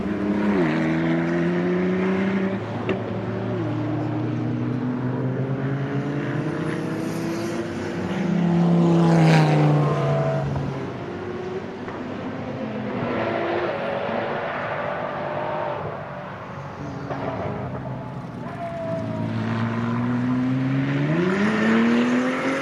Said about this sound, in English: Now let's listen in on the Ford GT.